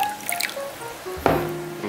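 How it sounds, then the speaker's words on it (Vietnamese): Water is poured over dessert ingredients for a Vietnamese chè so they can soak. A few light drips come first, then a close, steady splashing pour fills the rest. "Xin cho nước vào ngâm nha."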